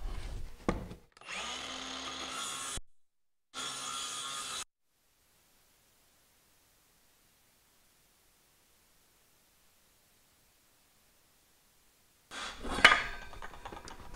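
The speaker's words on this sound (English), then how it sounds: "So the first cut I'm gonna make is with the circular saw, and I'll just plunge in and make that cut along the line there." A circular saw plunge-cuts a basement subfloor panel in bursts: a loud whirring cut, a short break, another burst, then a long silence before a final burst of cutting noise.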